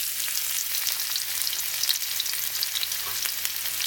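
Sliced onion frying in a pan for Bicolano fish paksiw gives a steady, close hiss of sizzling oil with faint stirring, heard alone without talk throughout.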